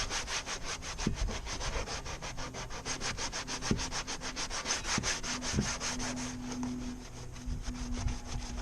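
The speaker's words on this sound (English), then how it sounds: "So, let's give her a scrub." Steady back-and-forth scrubbing of a kayak hull with a brush, a continuous rapid rasping rhythm at close range with a few soft knocks, no talking.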